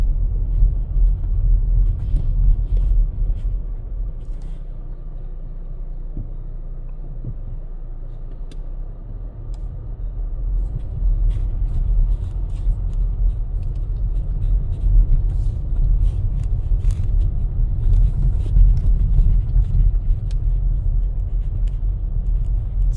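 A car drives over grooved pavement through a summer road construction zone in Minnesota, heard from inside as a continuous low road rumble and tire drone that swells slightly at times, with no talking.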